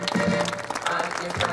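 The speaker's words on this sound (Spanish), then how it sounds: "Nos ponemos de repié para recibir con un fuerte aplauso a las banderas de ceremonia" A crowd at an anniversary ceremony in San José de la Esquina applauds as the ceremonial flags are carried in, a steady mid-distance clapping mixed with a sustained tone and voices.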